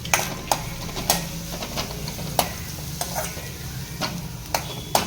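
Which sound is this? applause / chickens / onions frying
onions frying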